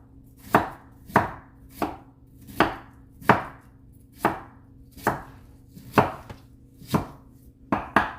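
A knife chops green peppers and red onions on a cutting board at home, about a dozen crisp, evenly spaced strikes close to the microphone, alone over a faint low hum.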